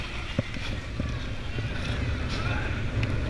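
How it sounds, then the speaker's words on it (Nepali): Stormy wind roars during a mountain bike ride through rain and hail, a constant, rough rush of gusting air and microphone buffeting that fills the scene throughout. "हावाहुरी"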